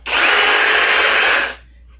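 Brushless high-performance cordless drill running steadily at full speed for about a second and a half, loud and close with no talking, then stopping abruptly and leaving faint room noise.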